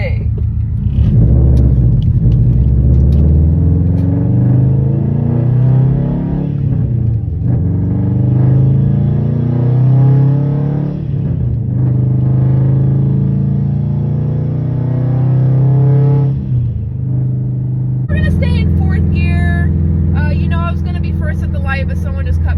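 A 2017 Subaru STI with a manual transmission pulls away from a stop sign after a downhill approach. Its engine rumbles and climbs through the revs in steady surges with gear changes, close and loud, while someone talks over it.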